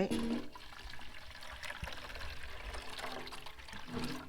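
Wood vinegar solution poured into a container for spraying organic long beans, a continuous splashing pour running throughout at close range, with a brief voice near the start.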